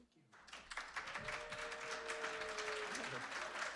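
Audience applause at a conference lunch keynote, a burst of clapping that starts abruptly and holds steady at moderate volume with a few tonal squeaks and voices mixed underneath.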